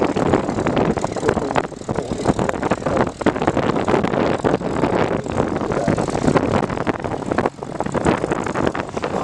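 A Supermarine Spitfire propeller aircraft flies past at the Duxford Battle of Britain airshow, its engine a loud, sustained broadband roar that stays strong and steady throughout.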